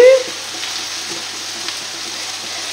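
Chicken meat for a chicken and mushroom blanquette is stirred in a hot pan, giving a steady, close sizzle that runs evenly throughout after a brief soft tone at the start.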